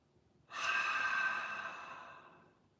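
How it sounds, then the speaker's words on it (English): A single long open-mouthed exhale, starting strong and close, then fading gradually over about two seconds, with no speech. "Breathe in, open mouth, exhale."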